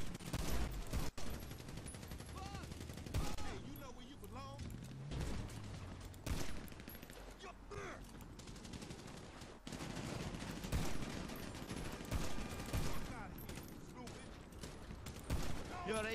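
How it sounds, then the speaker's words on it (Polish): Gunfire in the GTA V video game, bursts of shots blasting out a car window amid the chaotic mix of game sounds, continuous and fairly loud throughout. "kilka strzałów i ta szyba się przebija"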